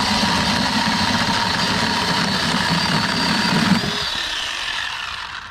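A Ryobi 10-inch battery chainsaw cuts through a piece of wood resting in a wagon, giving a steady, loud motor whine with a strained cutting tone that drops away near the end as the cut finishes.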